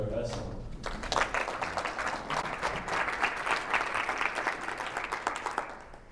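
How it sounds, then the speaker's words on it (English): An audience claps for a guest speaker at the Naval Academy, with steady, dense applause running throughout and tapering near the end. "please have a round of applause for our speaker, Rip Esselstyn."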